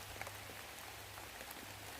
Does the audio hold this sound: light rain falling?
yes